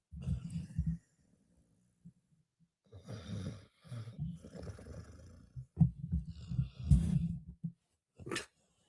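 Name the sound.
dog snoring next to the microphone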